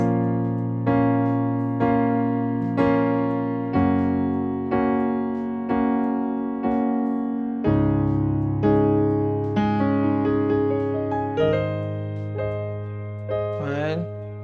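Piano playing open sus2 chords with quick in-tempo fills between them, sustained ringing chords punctuated by rhythmic note runs, loud and close with no talking.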